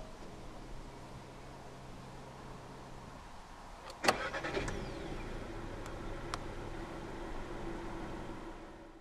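A 2016 Volkswagen Polo 1.2 TSI engine cranks with a sharp click and catches, then settles into a quiet, steady idle, with no talking.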